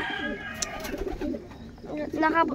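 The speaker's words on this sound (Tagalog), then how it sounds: "May nakapuntang kalapati dito." Pigeons cooing around a rooftop viewing spot, soft repeated low coos mixed with rustling and other noises, with brief voices nearby.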